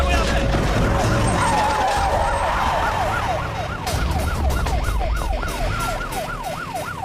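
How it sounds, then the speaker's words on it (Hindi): A police siren wails nearby, its pitch sweeping up and down in a fast repeating cycle over a loud rumble of traffic. "ये तो पुलिस का सायरन है।"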